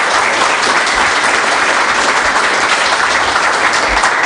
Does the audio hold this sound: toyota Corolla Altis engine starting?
no